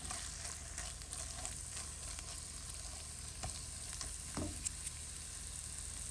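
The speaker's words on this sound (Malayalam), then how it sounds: "കുറച്ച് ഉപ്പിട്ട് നന്നായിട്ടൊന്ന് വഴറ്റിയെടുക്കാം" Shallots and masala sautéing with salt in a pan for a fried sardine curry, a steady close sizzle with faint stirring scrapes running throughout, no talking.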